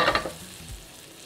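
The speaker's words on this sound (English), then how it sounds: "Just let the tomato cook a little bit." Tomato and garlic cooking in a pan, a brief burst of sizzling and stirring that quickly fades to a quiet low simmer.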